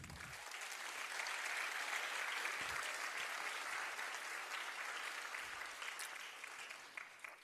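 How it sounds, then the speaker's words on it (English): Audience at a performance applauding warmly in a continuous, fairly faint wash of clapping that holds steady and then eases off slightly toward the end, with a few low thumps underneath. "Another applause for her."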